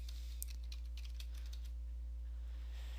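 Typing on a computer keyboard to search the Windows Start menu, a short run of quick light key clicks, faint and close over a steady electrical hum, with no talk.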